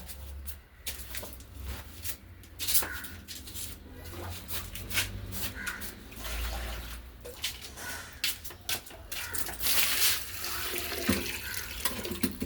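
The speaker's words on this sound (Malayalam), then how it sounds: "അപ്പോൾ നമ്മൾ ഗോമൂത്രവും വെള്ളവും കൂടി മിക്സ് ചെയ്ത് വെച്ചിരുന്നത് ഇതിനകത്തേക്ക് ഒഴിക്കാം." A cow urine and water mix pours into a container holding cow dung for jeevamrutham, a continuous, splashy liquid stream that surges and gurgles unevenly, close by and with no talking.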